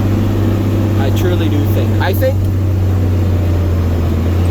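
A John Deere 4960 tractor chisel plowing: its engine gives a loud, constant low drone that runs unbroken beneath a voice inside the cab.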